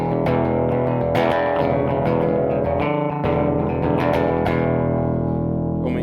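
Moog Minifooger drive pedal running at full drive with the mix brought in, a dense distorted, harmonically rich tone holding steady with sustained low notes and rings, loud and continuous with no talk.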